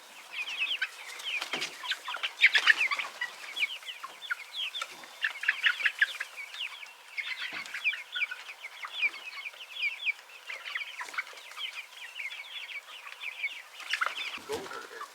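Chickens outdoors cluck steadily in a flock, with overlapping clucks and occasional louder squawks from several birds nearby, continuing throughout.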